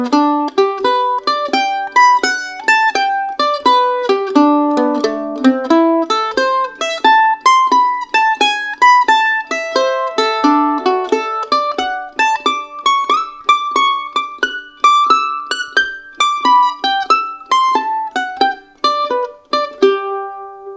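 Jazz mandolin plays an arpeggio exercise, a steady run of bright picked notes climbing and falling through chord shapes, close and clear with no talking.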